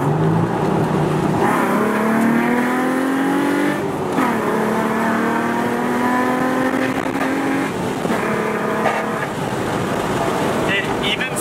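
A modified Nissan 350Z engine revs repeatedly, its pitch climbing and falling in long sweeps, loud and close as heard from inside the cabin.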